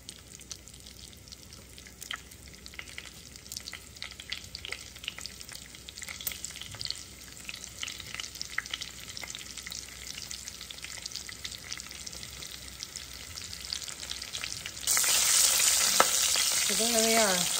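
Egg whites frying in a pan, with soft crackling and the scrape of stirring building to a louder, brighter sizzle near the end.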